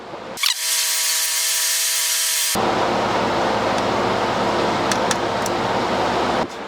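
A power tool whines loudly and steadily as it backs out screws on a Porsche 997 Boxster/Cayman heater switch panel, a high tonal motor note that drops into a broader grinding rasp before stopping abruptly.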